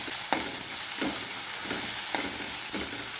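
Ginger garlic paste fries in a pan for an ivy gourd masala curry, a loud close sizzle broken by regular scraping knocks of a spoon stirring roughly every half second.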